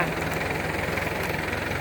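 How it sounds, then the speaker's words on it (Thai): A Ford 6610 farm tractor idles in a field, a steady close diesel drone with a rapid rhythmic knock and no speech. "รถไถนา"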